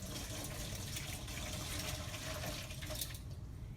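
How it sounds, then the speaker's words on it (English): Distilled water rushing steadily over surgical instruments, a continuous close splashing flow that stays broad and even throughout, with no talking. "We're going to go ahead and rinse these instruments with distilled water."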